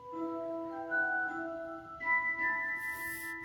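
A short Harry Potter theme notification chime plays a few bright, bell-like melodic notes, quiet and close, with no talking over it.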